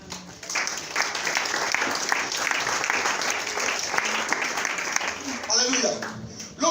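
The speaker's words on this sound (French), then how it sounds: "Acclamons aussi." A church congregation breaks into sustained applause, dense steady clapping from many hands that fills the room for several seconds, with voices calling out near the end.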